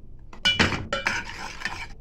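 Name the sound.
spoon stirring brigadeiro mixture in a pan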